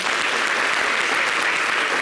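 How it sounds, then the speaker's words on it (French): Dense, steady audience applause on a French TV summer holiday show, loud and continuous throughout with no talk over it. "Alors, applaudissez pour ma vérité"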